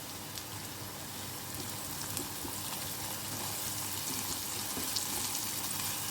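Dry red chillies and curry leaves sizzle steadily in hot oil, a continuous close crackling hiss with no talking.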